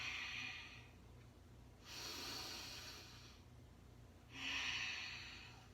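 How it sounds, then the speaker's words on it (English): Slow, steady breaths during a yoga practice, two long airy exhales and inhales rising and falling over several seconds, close and soft with no talking. "Inhaling and exhaling."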